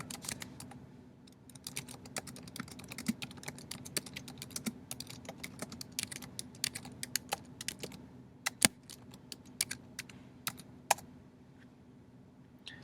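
Someone types an Nmap vulnerability scan command on a computer keyboard, a close, steady run of quick key clicks with a few louder strikes, heard alone in a quiet room.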